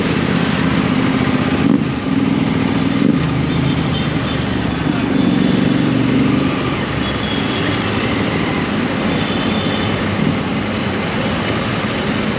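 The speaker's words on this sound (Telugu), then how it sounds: "ఫుల్ లౌడ్ ఉంది ఎగ్జాస్ట్" A Royal Enfield GT650 motorcycle with a loud exhaust on a night ride through Hyderabad, a steady deep engine rumble with road and wind roar holding a constant level throughout.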